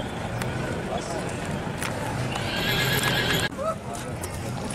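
A Marwari mare whinnies at the Sarangkheda horse market, with hooves clip-clopping nearby over a busy crowd murmur as people talk.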